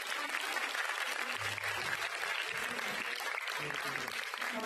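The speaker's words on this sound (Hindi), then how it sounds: "कृपया तालियों में कंजूसी मत कीजिए" Sustained audience applause fills an auditorium at a music and arts evening, a dense steady clatter of many hands clapping at an even level throughout, with no break.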